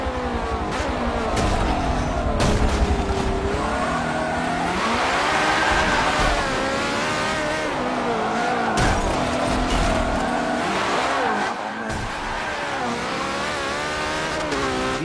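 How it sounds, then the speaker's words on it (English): A Porsche races on the Nürburgring GP circuit in a racing video game, its engine revving and rising through the gears, with tire squeal, loud and continuous throughout. "Win a race on the Nürburgring GP in a Porsche."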